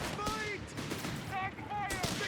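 A Crusader tank firing its 2-pounder gun in Company of Heroes 3, with a quick burst of sharp gunshots over a busy battlefield mix, while a commentator talks over it.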